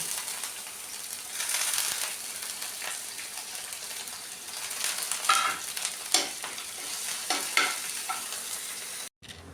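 Cumin and garlic crackling and sizzling in hot oil as a tempering for dal curry, a steady frying hiss with occasional sharper pops and a stir or two, cutting off abruptly at the end.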